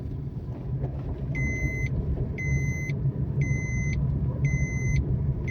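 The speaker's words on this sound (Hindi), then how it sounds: "ये बीप तब तक आती रहेगी जब तक मैं सीट बेल्ट ना पहन लूं।" A Maruti Alto K10's seat belt warning chime sounds four times in evenly spaced pulses, clear bright beeps riding over the low steady road rumble and engine hum of the car being driven.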